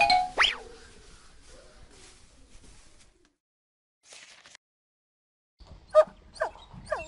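A cartoon sound effect of a small dog chasing a mouse into a courtyard in a children's multimedia storybook: short yelps and squeaks come at the start and again near the end, with near silence between them.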